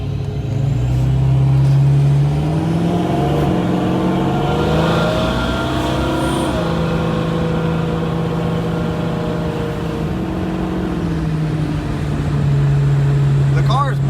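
A tuned turbocharged car rolls into a power pull after a boost leak was fixed. The loud engine note climbs and holds over several seconds, dips, then rises again, with a voice talking over it.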